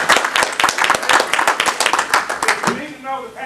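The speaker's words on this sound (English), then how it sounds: "Let's give Sharday a round of applause for" An audience applauds at a wellness event, a close burst of dense, even clapping that thins out and fades near the end as a voice starts speaking.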